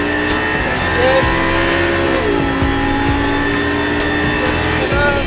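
Lamborghini LP560 at full throttle on a race circuit, its engine note climbing in rising harmonic sweeps that drop briefly at gear changes, loud and steady throughout.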